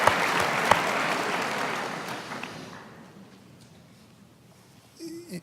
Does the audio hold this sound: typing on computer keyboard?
no